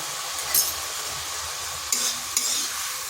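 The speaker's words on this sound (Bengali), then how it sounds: "মশলাটা একটু কষে নিচ্ছি" Ground cumin, coriander, chilli and turmeric powder stir-fried in a pan with tomatoes, a steady soft sizzle with a few sharp scraping stirs of the spoon standing out.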